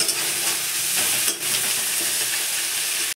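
Onions, green chilies and spices fry loudly in a pan, a dense continuous sizzle with a short dip midway where the pan is stirred, then carrying on strongly until it cuts off.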